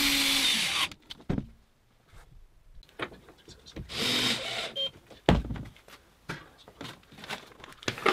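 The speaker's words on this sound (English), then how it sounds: "drilling the pilot holes and screwing the casters in place" A power drill whirs in short bursts as it bores pilot holes and drives screws to fix casters onto a birch plywood mobile base, close up, with clatter and quiet pauses between runs.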